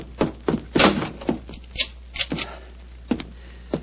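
Radio drama effect of a door being shut and locked: a series of close wooden knocks, clunks and rattles of latch and bolt, irregular and fairly loud.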